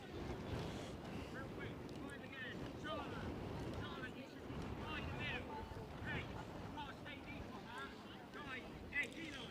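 Strong gusting wind buffets the microphone throughout an outdoor American football game between Cardiff Valkyries and Solent Thrashers in South Wales, a loud steady roar with broadband rumble under faint commentary.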